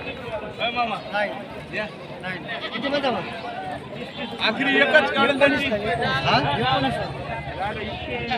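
Goats bleat repeatedly amid the busy crowd chatter of a Vasmat livestock market, their calls rising and falling under steady voices from people talking nearby.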